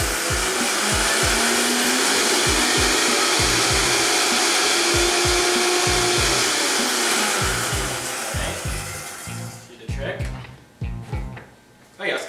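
A kitchen blender motor whirs steadily at close range, emulsifying olive oil into a citrus-parsley vinaigrette; the drone runs loud for about nine seconds, then cuts out, leaving some clatter and a voice speaking.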